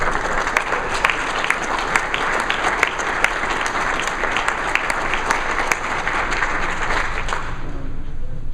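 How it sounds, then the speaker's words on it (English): Audience applause at a Governor's Awards ceremony for environmental protection staff: sustained, dense clapping from a large crowd, steady and fairly loud, fading near the end. "I wasn't really worried about getting applause"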